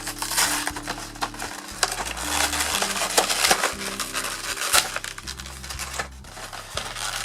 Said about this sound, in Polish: otwieramy blister